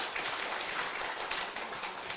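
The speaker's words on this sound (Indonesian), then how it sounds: "Sekali lagi berikan tepuk tangan yang meriah untuk kita semua." A faint, dense patter of applause fills a Partai Demokrat Kalimantan Barat party gathering: many hands clapping steadily at a distance, with no voices over it.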